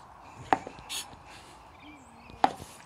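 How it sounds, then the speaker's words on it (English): A knife chopping through king oyster mushroom stems on a board: two crisp, isolated chops about two seconds apart, quiet and close against a faint background. "We'll just chop the stems off and chop them in half."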